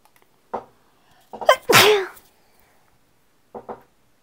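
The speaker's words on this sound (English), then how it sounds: "That was a sneeze." A single loud, close sneeze with a brief sharp intake before it, surrounded by short faint vocal sounds and quiet pauses.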